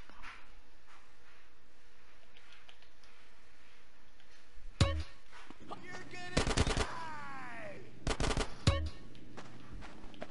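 Gunfire in GTA San Andreas: a few sharp single shots, then short loud automatic bursts with ringing echoes, over quiet game ambience.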